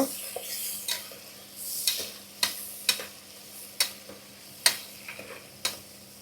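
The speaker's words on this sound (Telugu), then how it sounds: "దీంట్లోనే ఇంకా పొడుగ్గా కోసుకున్న ఉల్లిపాయలు వేసేద్దామండి ఫస్ట్ బాగా ఎర్రగా వేపేద్దాము" Sliced onions frying in ghee for an Andhra-style meal maker pulao, with a steady background sizzle and a series of sharp ladle clicks against the pan at irregular intervals.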